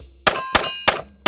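A pistol fired at a steel target with a GP Arms Forza double-stack 1911 (3.1-inch ported barrel): four sharp, loud metallic clangs ring out at a steady rhythm, each with a short bright ring-off.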